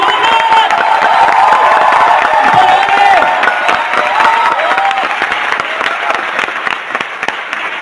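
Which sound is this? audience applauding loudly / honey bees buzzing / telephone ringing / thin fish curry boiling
audience applauding loudly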